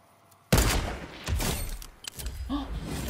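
A sniper rifle in a video game cracks with a sudden loud shot after a quiet start, followed by further thuds and impact noises over a few seconds.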